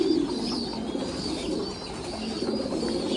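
White fantail pigeons coo in a low, continuous murmur, close and steady, with soft chirps and rustling beneath.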